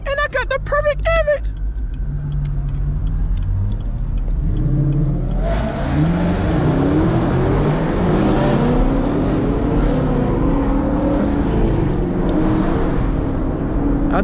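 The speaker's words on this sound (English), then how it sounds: "That BMW sound hella good though, I ain't gonna lie." A BMW car engine revs up and roars past nearby, loud accelerating rumble building and sustaining for several seconds, heard from street level on a night drive, with voices earlier.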